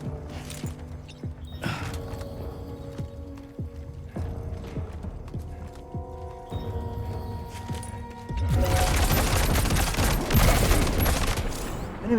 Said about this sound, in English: Enemy heard a gunshot.